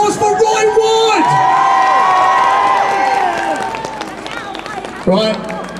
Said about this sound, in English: Big round of applause for Roy Wood!